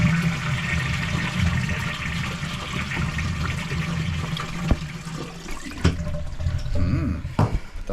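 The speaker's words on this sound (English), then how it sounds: "Give it a flush." A toilet being flushed during a plumbing repair with the water supply shut off: a loud, close gush and swirl of draining water, tapering into gurgles and a few knocks near the end.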